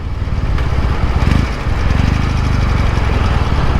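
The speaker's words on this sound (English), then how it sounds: "See how she's idling now after having a little bit of a zip." A 1968 Norton Commando with electronic ignition, Premier carburetors and new pistons idles steadily close by, a loud continuous rumbling throb with a slight dip in the middle, no talk.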